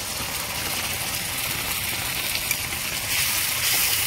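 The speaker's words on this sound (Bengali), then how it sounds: "এবার আমি যে মশলাটা একসাথে পেস্ট করেছিলাম সেটা ঢেলে দেব।" Spice paste poured into hot oil in a pan while cooking a Katla fish kalia, giving a loud, steady, close sizzle that swells slightly toward the end, with no voices.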